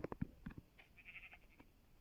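Minecraft sheep give several short, fairly faint bleats in quick succession, followed by a brief tonal game sound.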